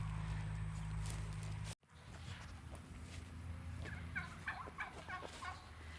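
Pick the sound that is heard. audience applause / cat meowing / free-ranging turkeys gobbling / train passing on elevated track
free-ranging turkeys gobbling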